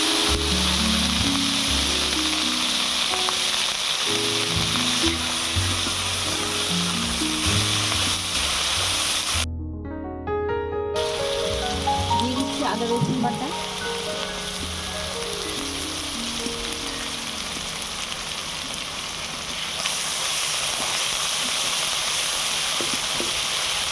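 Onion paste hitting hot mustard oil with whole garam masala and bay leaves in a pan, a loud steady sizzle and crackle of frying that runs throughout with a brief break, no talking.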